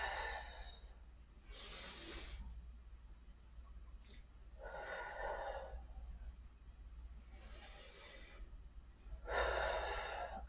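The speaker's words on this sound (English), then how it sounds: "Inhaling as you go up. And exhaling as you go down." Slow, audible breaths during yoga arm circles, with long airy inhales and exhales alternating several times over a quiet low hum, close to the microphone.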